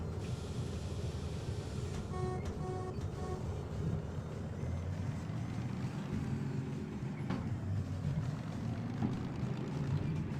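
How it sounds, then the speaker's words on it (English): Diesel locomotive engine in the Derail Valley railway game, a tractor-like shunter, running with a steady low rumble throughout, with a brief series of clicks or bell-like tones early on and no talking. "it kind of is like a tractor with the gears that you shift and everything, and it kind of sounds like a tractor too."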